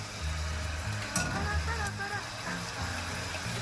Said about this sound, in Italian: ora che sta sfrigolando, prendiamo l'acciuga e la buttiamo